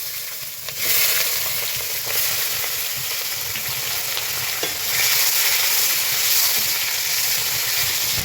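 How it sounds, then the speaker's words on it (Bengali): Whole onions frying in a pan for a chicken dish, a steady close sizzle with light stirring scrapes throughout, swelling slightly louder midway and continuing alone without talk. "পেঁয়াজগুলো আমার ভালো মতো ফ্রাই হয়ে গেছে"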